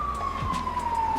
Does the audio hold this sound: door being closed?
no